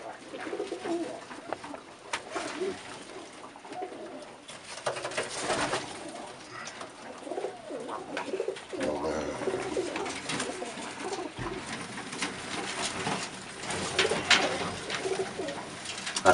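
Pigeons cooing inside a fancier's racing loft, soft overlapping coos and rustling continuing steadily throughout, with no talk.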